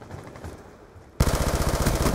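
Type 27 gun firing in Call of Duty Black Ops 2: after a quieter first half with faint game ambience, a loud, rapid automatic burst of gunfire kicks in abruptly and keeps going to the end.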